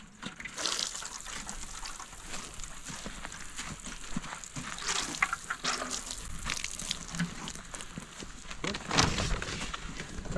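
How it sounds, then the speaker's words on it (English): Water splashes onto freshly planted spinach and parsnip garden soil, a soft continuous patter and gush with brief louder bursts, close by, while a person talks faintly at times. "Hit this with a little bit of water."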